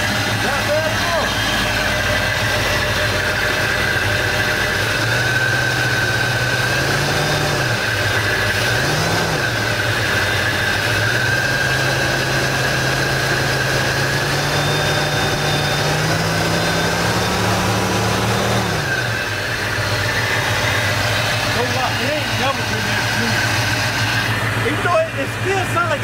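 Chevy C10 pickup idling after sitting seven years, fitted with a new Edelbrock AVS2 carburetor and showing a slight misfire. A loud, steady low rumble runs throughout with a faint uneven lope and small rises in revs, while people talk over it.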